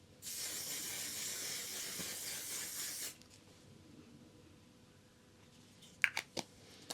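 A long continuous hissing spray of a mattifying waterproof makeup setting spray lasts about three seconds, followed by quiet room tone and a few soft clicks near the end.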